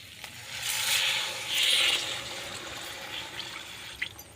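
Water is poured into a pot of chicken curry, a close, swelling gush and splash that rises and fades twice, followed by quieter bubbling and a faint clink.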